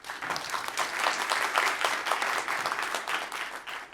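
An audience at a nature conservation lightning talks session applauds, a moderately distant, dense patter of clapping that swells and then holds for a few seconds.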